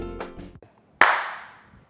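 A single sharp hand clap rings out close and loud after a few brief vocal-like sounds, then decays with a long ringing tail in a quiet room.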